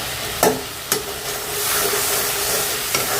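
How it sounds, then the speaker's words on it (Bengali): Spice paste for coral fish bhuna sizzles and fries in a pan, with a few sharp stirring scrapes early on followed by a steady hiss, close and fairly loud, with no talk. "মশলাটা একটু ভালো মতো কষালে"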